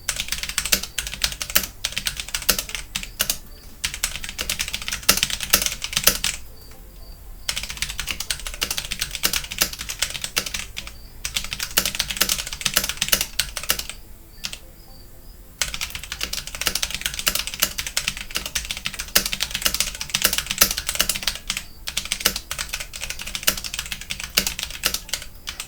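Fast typing on a HyperX Alloy FPS RGB mechanical keyboard with linear switches, a dense close-up clatter of keystrokes in bursts separated by short pauses.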